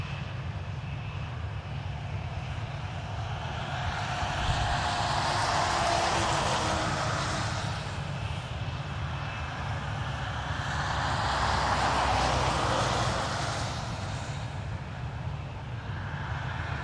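Engines of a Lufthansa Airbus A320neo in 100th-anniversary livery roar steadily at Dublin Airport, a continuous broad rumble that swells twice in loudness, heard from a distance with no talking.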